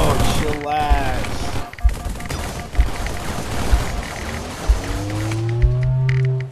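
A needler weapon fires in a video game, a dense stream of rapid crackling shots with rising whistling tones layered over continuous loud game noise, while faint voices talk in the background.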